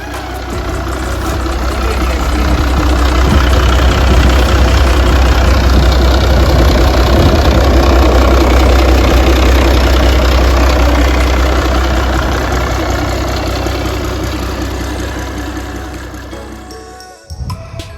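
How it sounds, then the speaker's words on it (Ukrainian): A Renault Midliner diesel engine, taken from a bus, idles loudly and steadily nearby, a deep continuous rumble with a knocking texture that cuts off abruptly near the end. "Ось робота даного мотора, який стояв на автобусі."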